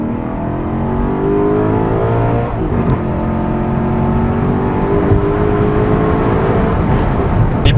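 An Alfa Romeo 8C Competizione engine revs up through the gears, its tone climbing in rising sweeps broken by quick gear changes, loud and close from inside the car with no talking.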